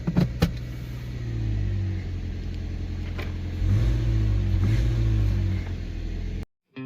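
A Subaru engine idling and then revving with a loud, worn exhaust. The rumble stays steady and close and rises partway through before cutting out abruptly at the end.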